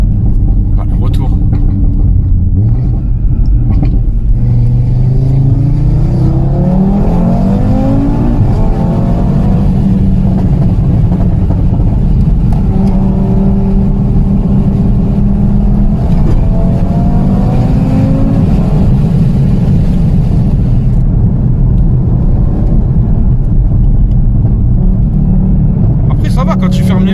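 Inside an Audi RS3 tuned to stage 2 with about 580 horsepower, the engine drones steadily and rises in pitch through several accelerations, loud and continuous, with people talking over it.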